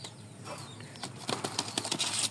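A released female pigeon flaps its wings close by, a run of quick broadband flutters that grows louder and choppier toward the end, with no voices.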